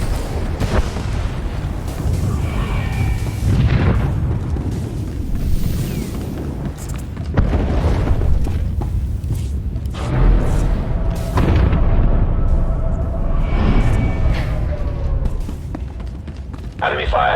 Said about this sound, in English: Enemy fire has burned through our shields.